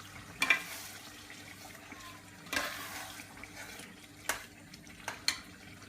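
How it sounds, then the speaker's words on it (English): Chicken karahi curry gets stirred in a pan over medium to high heat, a faint simmering sizzle broken by a few distinct scraping and clanking strokes of the spoon. "So just give this a good stir."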